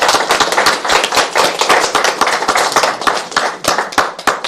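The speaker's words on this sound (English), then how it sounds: "So a massive round of applause for our judges," Audience applause at a photography awards ceremony, a dense roomful of hands clapping steadily throughout with no voices over it.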